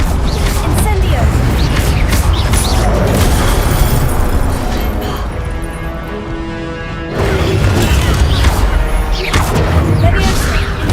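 Incendio fire spells cast in Hogwarts Legacy land as loud, dense booms and crashing bursts, with a short lull in the middle before the barrage of impacts resumes.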